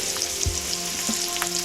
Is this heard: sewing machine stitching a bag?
no